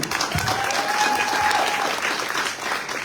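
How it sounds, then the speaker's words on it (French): An audience claps steadily and fairly loudly for about three seconds at a live event, with a dense, even wash of hands and a faint voice briefly audible beneath it. "vous pouvez l'applaudir aussi"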